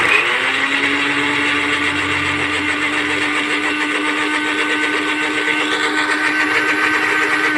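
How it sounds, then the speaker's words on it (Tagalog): A kitchen blender purées boiled chickpeas with their cooking broth for a chickpea masala. Its steady, loud, high motor whine runs continuously and close, with no one speaking. "Blender na natin."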